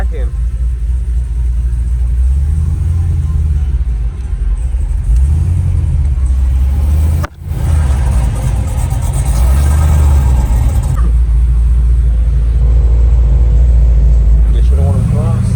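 At a truck meet, a loud truck engine rumbles close by and swells in repeated deep revs over a constant low drone, with one brief cutout midway. Someone talks over the noise.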